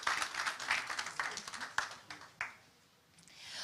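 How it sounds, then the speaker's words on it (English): Audience applause at a United Nations South-South Cooperation event as a guest walks to the stage, a crowd of hands clapping that gradually thins and fades out, with a few scattered claps near the end. "A round of applause as he comes to the stage"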